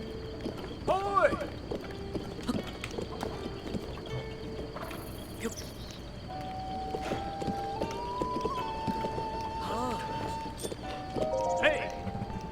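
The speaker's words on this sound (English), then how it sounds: "The legendary horse." Rhythmic clip-clop of the legendary horse's hooves galloping in the video game Zelda: Breath of the Wild, with whinnies, game music tones and a voice talking over it.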